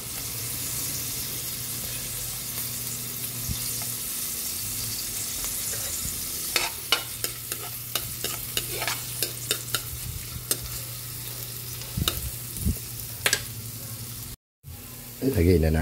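Garlic sizzling and frying in butter in a pan, a steady sizzle with clinks and scrapes of a utensil stirring. The sounds get busier partway through, and a brief gap cuts in near the end.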